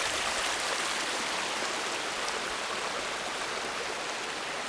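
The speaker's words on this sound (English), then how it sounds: "Look at the water flowing." Water flows steadily along a stream channel diverted beside a hiking trail, making a continuous, even rushing hiss with no pauses.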